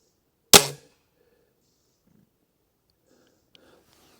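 A single sharp, loud crack from a Weihrauch HW57K .177 air rifle firing outdoors, followed by quiet with a faint distant tick of the pellet hitting the target.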